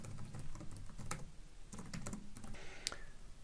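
Fingers tapping a computer keyboard while editing text in a WordPress site, a quiet, close, irregular patter of keystrokes with no speech.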